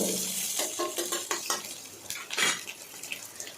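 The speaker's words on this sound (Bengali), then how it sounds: "তো চলো পেঁয়াজগুলো এবার লাল লাল করে ভেজে নেব" Chopped onions frying in oil for pulao, a light sizzle broken by several clinks and scrapes of a utensil stirring the pan, close and without speech.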